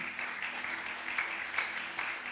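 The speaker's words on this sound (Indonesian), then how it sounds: "Kasih tepuk tangan buat Tuhan." A church congregation at JKI Alfa Omega Pemalang applauds during a sermon, producing a steady, dense wash of clapping that holds evenly throughout at moderate loudness.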